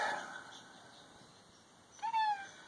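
A stray gray cat gives a single short meow near the end, clear and close after a stretch of faint background hiss.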